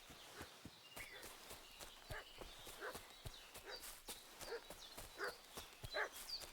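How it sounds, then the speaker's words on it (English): A dog barks repeatedly in short sharp bursts at a medium distance in the medieval game Kingdom Come Deliverance 2, over a steady rhythm of horse hooves clip-clopping. "What's that dog making such a fuss about?"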